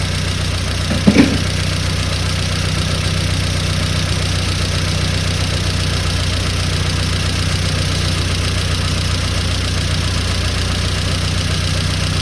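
A car engine idles steadily after a timing adjustment, an even low hum with a faint knock and one brief click near the start, no talking.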